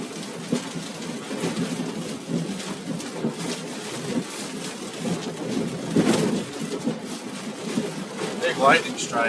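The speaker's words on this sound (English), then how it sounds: "Big lightning strike." Thunder rumbles through rain and wind during a severe Kansas storm, a sustained low rolling roar with a heavier crack near the middle, while someone talks over it.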